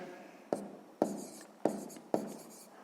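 A pen writes on paper during a sixth-grade math exercise, giving four crisp strokes at roughly half-second intervals, each a sharp scratch fading quickly, close and clear with no talking.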